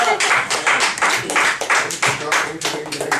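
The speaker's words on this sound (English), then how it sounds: "Give him a round of applause." Members of a Toastmasters club meeting clap together in a steady, pulsing rhythm of loud bursts close by, with voices mixed in among the claps.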